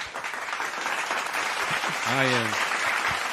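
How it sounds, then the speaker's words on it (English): A round of applause from a small studio group on a sports talk show, steady clapping filling the clip, with a brief voice breaking in near the end. "Thank you for the round of applause."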